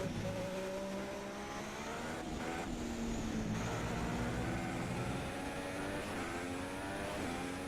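A Formula 1 race car engine in the video game F1 2016 drones at high revs, pitch sliding down and back up through gear changes during a qualifying lap, loud and continuous with no talk over it.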